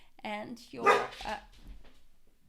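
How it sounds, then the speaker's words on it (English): A pet dog barks a few times at close range, sharp bursts overlapping with a woman's speech in a home setting. "sorry, that was my dog."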